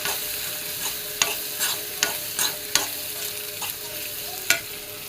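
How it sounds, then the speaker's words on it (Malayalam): Ingredients sautéing in ghee in a heavy-bottomed wok, with a steady low sizzle broken by repeated sharp scrapes and taps of a spoon stirring, fairly close and with no voices. "ഒരു അടികട്ടിയുള്ള ഒരു ചീനച്ചട്ടി വെച്ചിട്ട് ഞാനത് രണ്ടും നെയ്യിലേക്ക് ഇട്ട് കൊടുത്തിട്ടുണ്ട്. ഇതൊന്ന് രണ്ടൊന്ന് നെയ്യൊന്ന് വഴറ്റിയെടുക്കാം."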